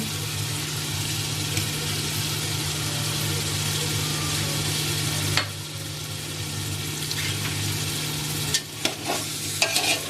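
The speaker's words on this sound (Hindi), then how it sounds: "दरमियानी आंच पे हम इसकी भुनाई कर रहे हैं।" Masala fries with added yogurt in a pot over medium heat, a continuous close sizzle with stirring scrapes, a low steady hum underneath and a few sharp clanks near the end.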